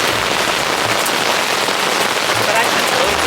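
Steady broadband hiss of rain beginning to fall on a camping setup at Cunningham Falls, with scattered drops ticking on a surface; it runs continuously without a break, and a faint voice is present underneath.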